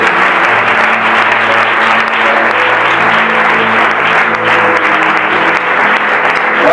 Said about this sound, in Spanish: Aplaude fuerte a Dios, por favor.